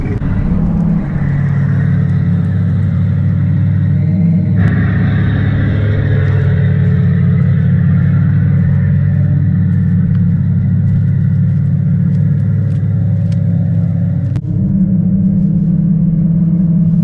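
A Tesla car plays a fake V8 engine sound through its speakers: a loud, steady, throaty drone that holds for about seventeen seconds with a brief rise partway through.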